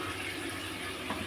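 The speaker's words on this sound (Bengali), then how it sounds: "আমি আরেকটু জল দিয়ে দেবো।" Water poured from a tap or vessel into a pan of hilsa fish curry with eggplant, a short steady close splash and trickle.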